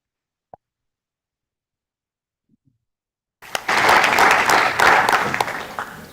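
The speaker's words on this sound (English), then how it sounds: "Let's give him another round of applause." Near silence with a couple of faint clicks, then a large audience at a tribal assembly suddenly breaks into loud, sustained applause that carries on to the end.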